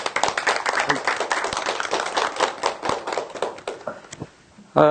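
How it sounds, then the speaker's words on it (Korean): A class audience claps to welcome a professor to a lecture, a burst of individual hand claps close by that thins out and fades toward the end, followed by a voice. "교수님 큰 박수로 맞이해서 수업을 진행하겠습니다. 박수로 맞이해 주세요."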